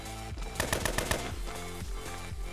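Rapid automatic gunfire rattles out in a tight burst of several shots in the survival shooter Fallen Survival, followed by a few scattered single cracks, loud and close with no voices.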